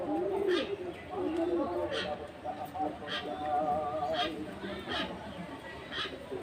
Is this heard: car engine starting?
no